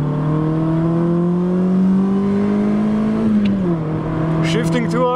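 A Honda engine revs hard in second gear and climbs into VTEC, its steady drone rising in pitch and then dropping as it comes off the throttle, loud and close throughout.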